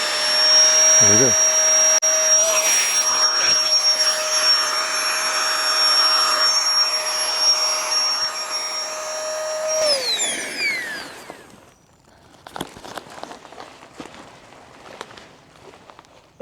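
A portable electric air pump inflating a pad gives a loud, steady high-pitched whine for about ten seconds, then winds down and stops, followed by quieter handling noises and clicks.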